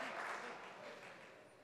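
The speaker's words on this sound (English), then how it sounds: "And he deserves a big round of applause." Applause from an audience at a Department of Justice anniversary celebration, steady dense clapping that fills the whole short moment at even loudness.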